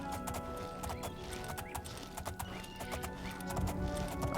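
A horse in the game Oblivion whinnies while its hooves clip-clop in a steady rhythm, set against a constant ambient game background with no voices.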